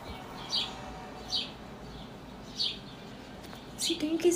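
A bird chirps outdoors. Short, faint, high chirps come roughly every second over quiet background hiss, ending in a quick cluster of calls.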